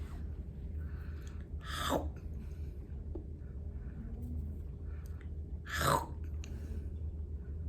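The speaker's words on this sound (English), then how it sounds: "I'm eating. Or I could even be chomping or even chewing." A person eating and chomping food makes two faint, brief smacking chews several seconds apart against a quiet room hum.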